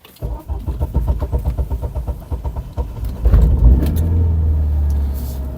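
A 2007 Daewoo Lanos engine cranks with a rapid pulsing starter rhythm for a few seconds, then catches and settles into a steady idle rumble.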